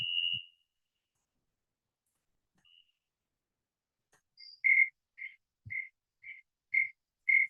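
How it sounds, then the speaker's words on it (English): A snowy tree cricket sings near a driveway in a garden: a series of evenly spaced short chirps, about six pulses in a steady rhythm, faint and alone in quiet surroundings after an earlier brief chirp. "That's the snowy tree cricket song."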